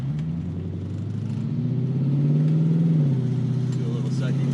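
An Infiniti Q45 running E85 fuel pulls in second gear, a deep engine rumble swelling as revs climb, then easing back, heard close from inside the car.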